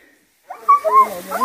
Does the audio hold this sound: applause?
no